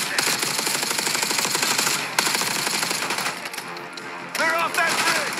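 Video game gunfire from Call of Duty Black Ops 6, a dense rapid automatic weapon rattle, loud and continuous with brief breaks, layered with game effects and a voice talking over it.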